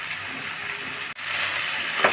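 Pumpkin pieces frying in oil in a pan for a vegetarian spinach dish, a steady close hiss and sizzle filling the whole moment with a brief dip partway through.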